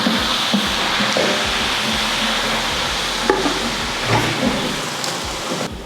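Mint and coriander leaves are stirred into onions frying in a pot for chicken biryani, giving a steady close sizzle with scraping spoon strokes and small pops throughout.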